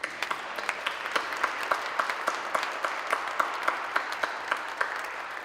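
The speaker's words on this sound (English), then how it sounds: "I think that deserves a round of applause." A congregation at a Wednesday worship service at Boston University applauds, a steady patter of clapping hands filling the room for several seconds, moderately loud and without talk.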